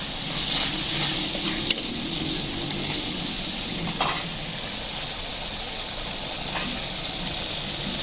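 Shrimp hit a hot pan while cooking a bottle gourd and shrimp curry, giving a steady, fairly loud hiss and sizzle that runs the whole stretch with a few faint crackles and no talk.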